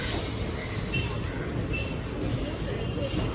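A train pulling into a station with a high, sustained wheel squeal over a low rumble of rolling cars, close and steady.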